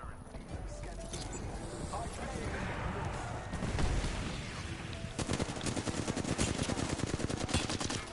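Fuse's knuckle cluster going off in Apex Legends, a dense rattle of quick staccato bursts and small detonations that starts a few seconds in and keeps firing steadily, loud and close, with a voice talking over it.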